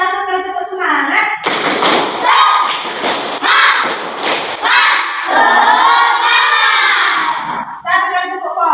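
A classroom of schoolchildren performs one round of a rhythmic clapping chant, loud and close, with shouted chanting voices over patterned claps and thumps, a teacher's voice leading in before and after.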